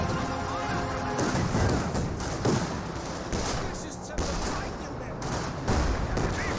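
Katyusha rocket barrage in the World War II strategy game Company of Heroes 2, a dense rumble of overlapping thuds and blasts with sharper impacts near 2.5 and 5.8 seconds, under a faint voice.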